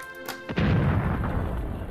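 A bomb explodes on a boat in the video game Natalie Brooks: Mystery at Hillcrest High, a deep rumbling blast that rolls on with noisy low-end roar, preceded by a brief sharper crack.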